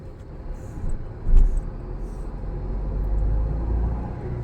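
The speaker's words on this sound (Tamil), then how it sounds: "இப்போ செகண்ட் கியர் போட்டு மூவ் பண்ணுறேன்" A used Honda Jazz accelerates in second gear, its engine a low, muffled hum that swells gradually from inside the car, with a brief bump early on.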